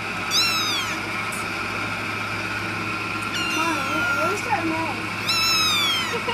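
Several high, rising-and-falling cat meows come in short bursts, close by, over a steady background hum, with a person's voice imitating meows between them.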